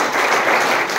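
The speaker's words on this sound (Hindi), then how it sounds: "ताली बजाएगा नहीं?" An audience at a Hindi sermon gives a short burst of loud, dense clapping, a continuous wash of many hands that fills the whole moment without pause.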